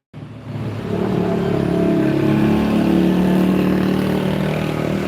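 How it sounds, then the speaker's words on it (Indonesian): Green cement mixer truck passing on a road, its low diesel engine rumble rising steadily and holding loud and close for several seconds, with no talk over it. "Truk hijau, truk molen."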